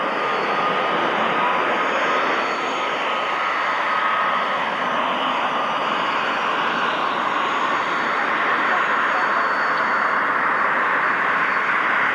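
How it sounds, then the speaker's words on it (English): A Gloster Meteor jet fighter flies past at the 1998 Cranfield airshow, its engines a loud, steady broadband roar throughout with no break. "the most elegant of jet fighters, a possibly beautiful jet"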